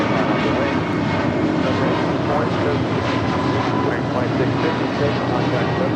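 A Southwest airliner takes off from runway 25 right at LAX with a loud, steady engine roar that stays constant throughout, and a radio voice speaks faintly beneath it.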